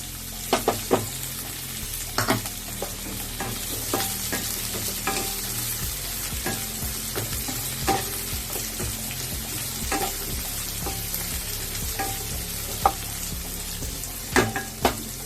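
Onions frying in a pan and being stirred, a steady sizzle under frequent scraping and clicking strokes of the spatula, close and fairly loud throughout.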